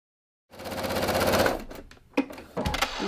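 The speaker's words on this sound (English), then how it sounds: "sew the whole length of the strip" Sewing machine running a long continuous stitch along a quilt binding strip, loud and steady with rapid needle rhythm, then slowing into a few short bursts near the end.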